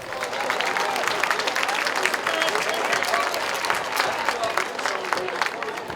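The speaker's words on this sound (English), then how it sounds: "Please join me in a round of applause." Sustained crowd applause during a Wall of Honor ceremony at a high school football field, dense steady clapping from many people for several seconds, fairly distant and even.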